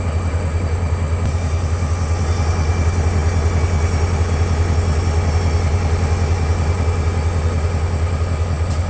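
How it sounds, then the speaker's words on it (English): A diesel locomotive idles about twelve feet away, giving a steady, low, droning rumble with a constant mechanical hum that stays even and fairly loud throughout. "That engine is right up against us, probably 12 feet away from me, and it's quiet. It's almost like a diesel pickup truck."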